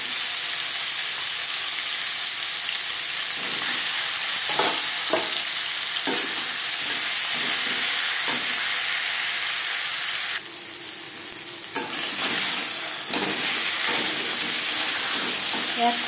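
A marinated katla fish head fries in hot refined oil with a continuous close sizzle, broken by several sharp scraping stirs and a brief softer moment midway.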